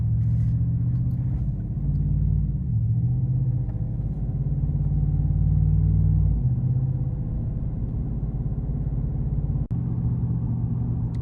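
Steady low rumble of a 2021 Chevrolet Silverado pickup truck cruising on a back road, engine droning with a slight shift in tone midway, no voices.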